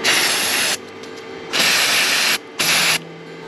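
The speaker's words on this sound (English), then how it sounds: "a little spray of Ripoderma will do the trick" Three bursts of hissing hoof spray close by on a cow's foot, the first two longer and the last short, with quiet pauses between them.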